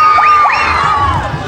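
Audience at a national costume pageant cheering and shouting, high voices with rising whoops over steady crowd noise, loud and close, no clear speech.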